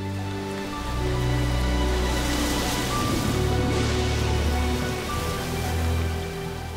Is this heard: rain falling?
yes